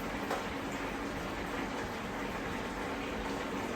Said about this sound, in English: rinse that off so that any dirt lies on that can be rinsed off